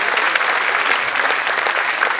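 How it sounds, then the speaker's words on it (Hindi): Enthusiastic applause fills a hall at a school annual program, dense and continuous from start to finish. "एक बार जोरदार तालियों से इनका स्वागत होता है।"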